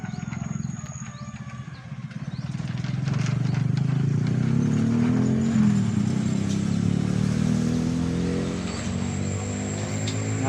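A trailer truck on the main road through Cilacap, Central Java, on the route toward Surabaya, gives a low, heavy engine rumble that swells after a quieter start and then holds loud and steady, with no talking.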